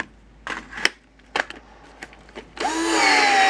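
A cordless drill on a restored NiCad battery spins up and runs steadily at full power, chewing into a rag, loud and close after a few clicks and handling knocks.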